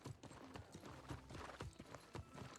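Horse hooves clip-clopping steadily as a mount is ridden into a building in the video game New World, a busy close rhythm of hoof strikes at low level.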